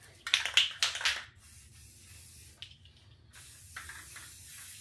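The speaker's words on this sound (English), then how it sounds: "I'm spraying over it." Rust-Oleum flat black spray paint hisses from an aerosol can in two or three short close bursts, followed by a quieter hiss and faint background noise.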